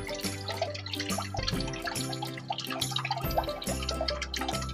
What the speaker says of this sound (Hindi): अब इसमें हम तकरीबन 2 कप के करीब पानी ऐड कर देंगे।